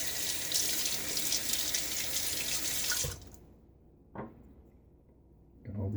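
Tap water runs steadily and loudly into a sink as a razor is rinsed during a double-edge safety razor shave, then cuts off abruptly, leaving a few faint splashes and small handling knocks.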